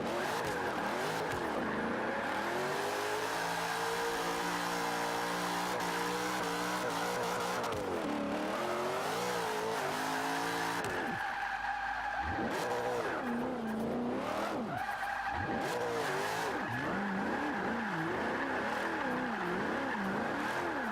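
Nissan Fairlady Z, rear-wheel drive, drifting in Forza Horizon 5: engine revs rising and falling in repeated surges, with sustained tire squeal and skidding through the slides and brief drops between runs.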